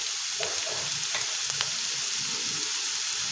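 Onions frying with turmeric and salt in a pan for an egg and black-eyed pea fry, a steady close sizzle with a few sharp scraping clicks of a spoon.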